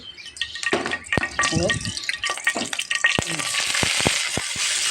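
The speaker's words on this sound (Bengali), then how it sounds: "ফ্রাই প্যানে আমি তেল দিয়ে দিছি এখন আমি পেঁচকুচিটা দিয়ে দেবো" Panch phoron spices dropped into hot oil in a frying pan sizzle and crackle, building into a dense, steady hiss near the microphone, with utensil clinks and a voice talking over the start.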